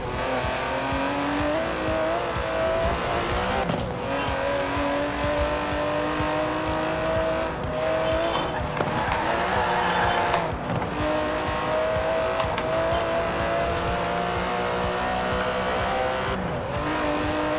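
An Aston Martin DB11's 5.2-litre twin-turbo V12 races in Forza Horizon 4, its loud engine note rising and falling through gear shifts, with brief tire squeals, close and continuous.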